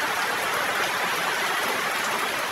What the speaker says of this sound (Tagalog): Aga-aga po umuulan